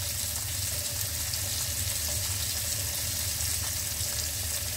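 Asparagus and seasoning being stir-fried in a pan give a continuous, even sizzle at close range, steady throughout with no talking.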